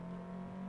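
GTE race car engine in iRacing at Imola, a steady low droning hum with a faint whirring overtone, moderately quiet and unbroken for under a second.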